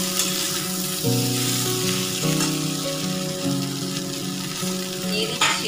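Green chilies frying in hot oil for a Bengali prawn and spinach curry, a loud, continuous close sizzle with occasional stirring scrapes.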